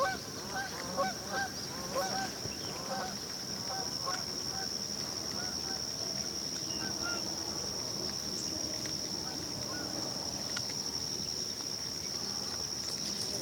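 Distant geese honk in a loose chorus as they take off across a pond, over a steady high insect drone, faint and outdoors, with occasional quiet voices.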